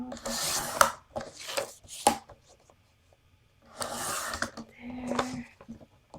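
Scissors trim fabric for a fabric-covered journal, heard close up as a few short rasping cuts and rubbing swipes in two clusters, with a quiet pause between them.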